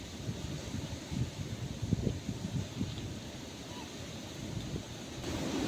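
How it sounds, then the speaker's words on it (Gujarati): Strong gusting wind ahead of a forecast storm buffets the microphone in uneven bursts, a steady broadband roar underneath with no one speaking. "વાવાઝોડાની આગાહી હતી ને એટલે પવન બહુ છે"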